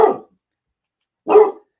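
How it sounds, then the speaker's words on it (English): A dog barks twice indoors, two loud, close single woofs about a second apart with silence between. "The dog's got to get her screen time every week."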